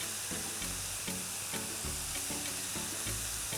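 Garlic sizzles in a pot over high heat for a vegan one-pot shepherd's pie, a steady close crackling hiss with faint rhythmic scraping beneath it and no talk.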